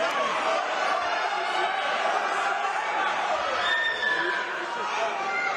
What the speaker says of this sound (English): the crowd are on their feet at York Hall tonight